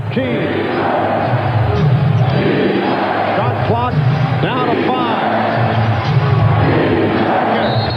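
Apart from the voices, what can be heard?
home crowd cheering at basketball game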